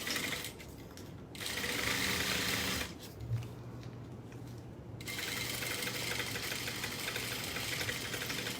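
A sewing machine runs in two sustained bursts, stitching a half-inch seam through fabric pieces placed right sides together, with a steady mechanical whir and a short pause between runs.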